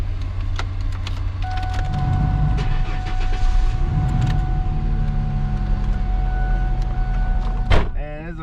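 Inside a Ford Mustang bought at auction, a steady low idle hums beneath mechanical clicks and whirs, with a brief sharp burst near the end, and no talking in the clip.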